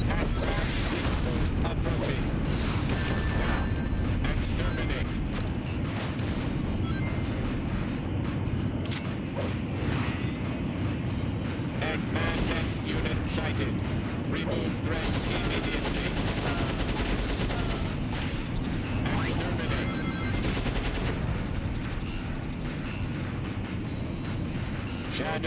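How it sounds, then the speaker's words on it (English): Explosions and gunfire in the video game Shadow the Hedgehog, a dense, continuous barrage of booms and crackling blasts layered with game effects, loud throughout with a voice talking over it at times. "There's so many explosions!"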